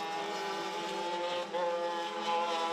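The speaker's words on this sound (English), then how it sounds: "Oh, noisy exhaust. Oh, someone's had the baffles just go." A DD2 racing kart with a noisy exhaust, its baffles gone, drones past on the Kerpen circuit, a loud raspy harmonic engine note holding steady with a brief dip.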